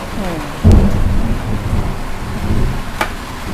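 Rain pours steadily while thunder breaks with a sudden deep crack and rumble, followed by a sharper distant strike, loud and close with no talking.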